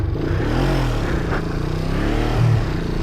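A 1973 Honda CL350 motorcycle engine runs close by, idling with a steady low throb that surges into rev bursts, loud and alone without talk.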